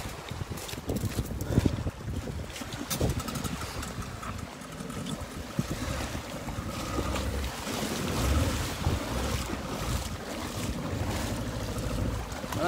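Sea waves washing ashore at Puramalai beach in Trincomalee, a steady broadband surf wash with gusty wind buffeting the microphone throughout and no talking.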